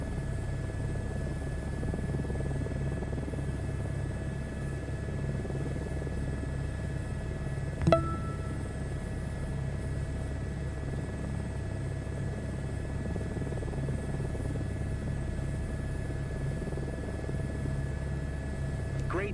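An aircraft engine in Microsoft Flight Simulator 2024 drones steadily at a constant pitch for the whole stretch, with one brief click partway through and no talking.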